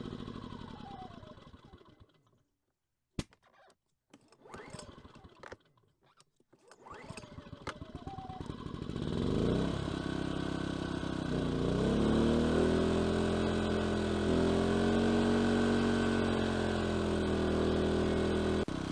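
An A-iPower SUA2000i inverter generator is restarted after a pause with faint clicks, then runs with a steady engine drone that shifts in pitch as load changes.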